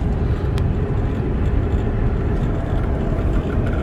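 A 2003 Mercedes-Benz E500 pulling strongly in third gear during a test drive, giving a steady, loud rumble of engine and road noise throughout, with a faint rattle buried in the drone.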